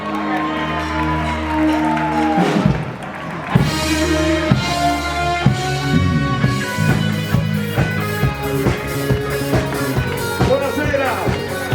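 A crowd at an outdoor Naples food festival cheers and applauds for a singer as music plays loudly and continuously, the clapping and shouts blended under the band.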